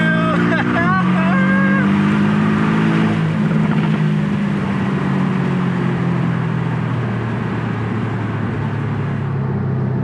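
A Porsche 718 S Boxster with a PDK gearbox accelerates hard, its engine tone climbing in loud rising sweeps with a quick shift change, heard from inside the car with a voice over it.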